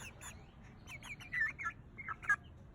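Chickens make soft clucks and short chirpy calls outdoors beside a garden, scattered and fairly quiet over a low rumbling background.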